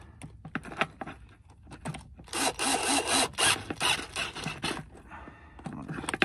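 A battery cable terminal is tightened on a 2000 Dodge Neon during a rebuild, with close metallic clicks and rattling tool taps followed by a longer burst of ratcheting scrapes.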